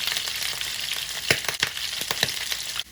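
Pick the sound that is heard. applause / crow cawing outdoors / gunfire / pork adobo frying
pork adobo frying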